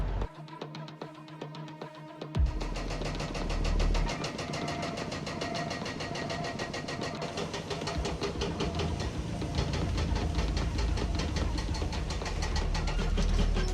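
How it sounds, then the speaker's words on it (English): A big, powerful excavator engine runs on a cramped construction site for a new Canadian Tire store in Kingston. It is quieter at first, then a loud, steady, rumbling drone takes over and holds. "the decision is made to bring in a bigger, more powerful excavator"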